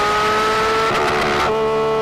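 A Porsche 911 GT3 RS engine revs hard toward the red line in a loud, brief burst, its rasping note surging and breaking into quick pulses before settling.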